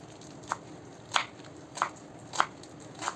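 A knife chops fenugreek (methi) leaves finely on a board: about five evenly spaced crisp strikes, close and clear over a faint background hiss.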